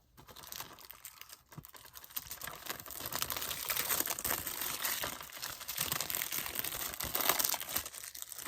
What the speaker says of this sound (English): I got scissors right here, so I'm just going to cut this open